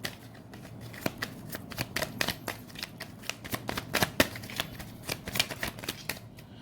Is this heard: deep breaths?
no